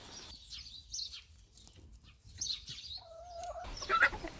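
Chickens cluck and chirp softly nearby in short scattered calls, with a faint outdoor background and no talking.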